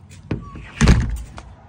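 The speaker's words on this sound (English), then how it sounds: "Let's close that door." A door swings shut close by with a brief creak and then a solid thud, as if it were pushed closed on the way outside on a sunny day. No one speaks.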